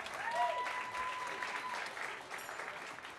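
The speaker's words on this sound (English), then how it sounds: "A round of applause for this amazing band on stage" A jazz club crowd applauds the band on stage, sustained clapping with a few cheers and a brief whistle-like tone early on, fairly even in loudness and slowly tapering.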